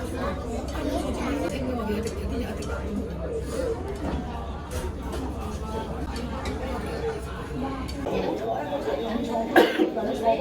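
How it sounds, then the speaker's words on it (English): A man coughs close by amid steady crowd chatter and speech babble near an open restaurant in Macao, with the coughs rising above the loud hubbub toward the end. "This guy needs to stop coughing."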